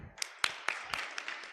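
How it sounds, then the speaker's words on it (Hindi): Applause from an audience at a children's seminar session, a short burst of scattered claps with a few sharp louder hits, fairly close and fading out. "पहले तो सब बच्चों के लिए तालियां बजाएं।"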